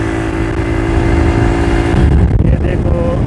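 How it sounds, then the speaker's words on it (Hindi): A motorcycle in fourth gear runs at full speed, its engine droning loud and steady close to the microphone with wind rush, the pitch shifting slightly near the end. "ये देखो बाइक हमारी बिल्कुल तेज़ रफ्तार के साथ जा रही है।"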